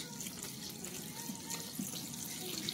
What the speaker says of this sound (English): So I add my water, which is, I do 8 cups.